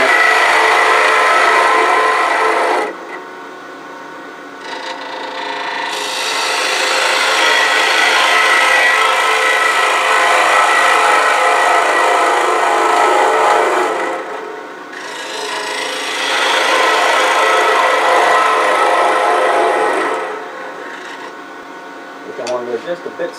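Wood lathe gouge hollowing out a spinning wooden piece, loud scraping and rasping cuts in three long passes separated by brief pauses.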